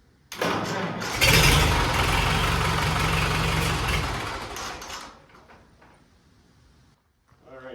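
A small engine is started with the choke on, catching with a loud roar after a brief crank, running hard for a few seconds, then dropping to a quieter idle before a short final burst.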